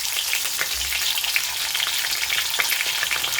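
Broad beans and vegetables frying in a pan for a Bengali spinach dish: a dense, continuous close sizzle with faint crackles and occasional stirring bumps throughout.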